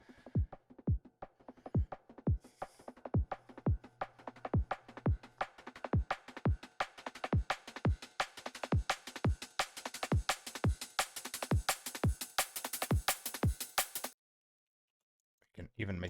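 An electronic drum build-up of rapid kick hits speeds into a dense roll while a low-pass filter sweep slowly opens the top end. It cuts to silence before a final hit.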